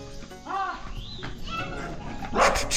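Oreo, a dog, gives a few short barks and yips mixed with whimpering, heard close under a nearby voice and some background birdsong.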